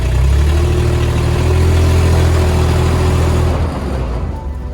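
A budget 4x4 rat rod truck runs right after a fuel pump replacement, its engine a loud, steady, close rumble with a low droning hum that drops off slightly near the end, and no talk over it.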